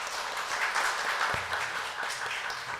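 Church congregation applauding during a Sunday morning service as a scholarship certificate is presented, a steady broadband patter of moderate clapping throughout, with a brief low thump partway through.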